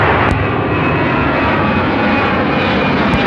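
An airliner takes off at Seattle-Tacoma International Airport with a loud, continuous engine roar close by that fills the whole stretch without a break.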